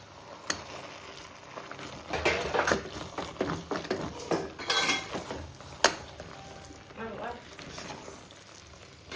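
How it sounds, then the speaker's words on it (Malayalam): Close scraping and clinking of a utensil stirring cassava in a pot, in irregular bursts over a soft sizzle. "നമുക്ക് ഇതൊന്ന് ഇളക്കി കൊടുക്കാം"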